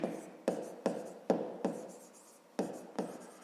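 Handwriting on paper during a fifth-grade maths lesson: close, quiet pen strokes, about seven short sharp taps each followed by a fading scratch, spaced irregularly with no talk.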